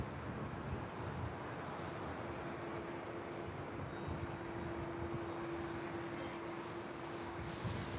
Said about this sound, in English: This is Alaska SkyWest Flight 3364 coming in from Eugene.